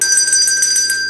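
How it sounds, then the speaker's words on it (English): A single bright bell tone marking the exhale in a yoga session, rings clear and loud with steady sustained overtones and a faint pulsing shimmer, heard alone without talk. "exhale is the blue bell"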